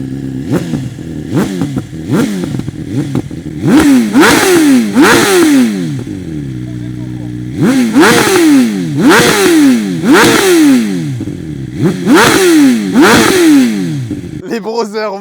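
A BMW S1000RR superbike engine revved hard in repeated sharp bursts, each climbing quickly to the rev limiter and bouncing off it with a stuttering cut before dropping back, loud and close, with brief pauses between pulls.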